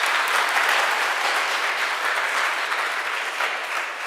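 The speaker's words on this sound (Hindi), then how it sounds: "शाबाश, ताली बजा दो सारे।" Audience at a Hindu religious discourse claps together in a steady, dense round of applause, loud and unbroken with no talking over it.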